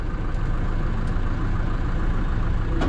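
Farm tractor running a hay tedder, its engine droning steadily at close range with a dense, even low rumble and no voices.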